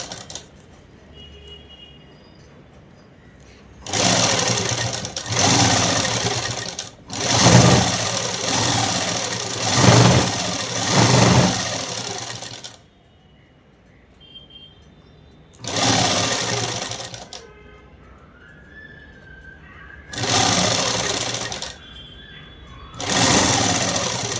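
Sewing machine stitching a man's shirt, running in several loud bursts of fast rattling needle action with brief quiet pauses between them, close up and without talk.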